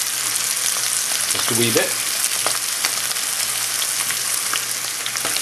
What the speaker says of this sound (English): I'll warm up my peppers.